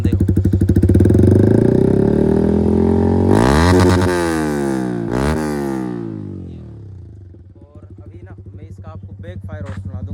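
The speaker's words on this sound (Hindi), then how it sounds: "ये देखो भाई, काफी ज्यादा लाउड है यार, कान में दर्द होने लग गया भाई साउंड सुन के" A Yamaha R15 V4 motorcycle fitted with a loud Akrapovic exhaust revs up close, pitch rising and falling in strong sweeps, then settles to a rough, popping idle.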